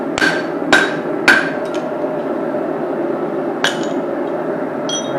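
Sharp hammer blows ring out on an anvil while a small ball peen hammer is forged, with a quick cluster of three strikes followed by a lone later hit, each leaving a bright metallic ring over steady background hum.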